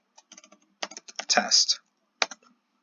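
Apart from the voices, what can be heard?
typing a command on a computer keyboard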